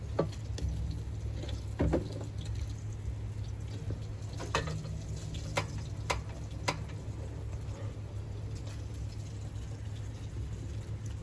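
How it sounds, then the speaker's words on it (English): Salmon searing skin side down in a hot pan with a little blended oil, a soft steady sizzle broken by sharp clicks and taps of kitchen utensils, no talk. "We are going to sear both sides, but the presentation side that hits the pan first is going to have the most concentrated heat and is going to get the best sear"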